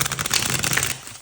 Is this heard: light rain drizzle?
no